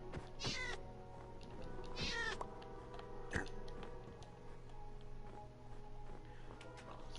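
Minecraft cat meowing in the game, two clear drawn-out meows close together early on, followed by faint ticks and soft background sounds with no one talking.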